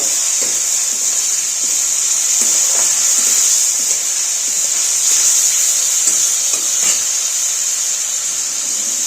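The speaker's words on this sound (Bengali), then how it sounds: "একটু টক দইটা এর সঙ্গে নাড়াচাড়া করে নেব।" Sour curd being stirred into shahi paneer masala in a pan, with a steady bright hiss of steam and sizzle and faint scraping stir strokes throughout, close and continuous with no talking.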